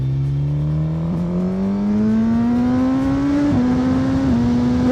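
Suzuki GSX-R1000 motorcycle accelerating hard, its loud engine note rising steadily in pitch with a couple of quick-shifter gear changes marked by short dips, heard close with wind rush.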